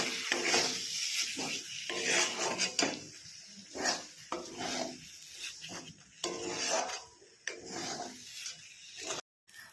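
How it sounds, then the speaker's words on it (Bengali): A spoon scrapes and stirs a thick paste of masoor and chana dal with banana flower in a pan. The strokes are close and repeated in an uneven rhythm, with a soft sizzle between them. "এবার ভালো করে কষে নেব কিছুক্ষণ ধরে।"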